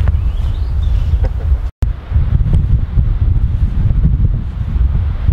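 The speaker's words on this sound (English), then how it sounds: "really windy out here" Loud, buffeting wind roars across the microphone continuously, with gusty low rumble and a brief dropout partway through.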